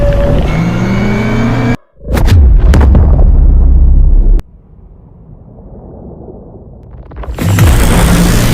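A large nuclear weapon detonating at a submarine gives a sudden deep booming blast that cuts out, then a rumbling roar that fades into a low, hollow underwater drone before loud noise surges back.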